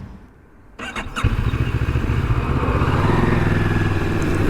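A 2024 Moto Morini Calibro 700 motorcycle starts up after a quiet moment, then its engine settles into a loud, steady, rumbling idle, close by.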